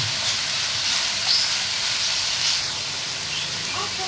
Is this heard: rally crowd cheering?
no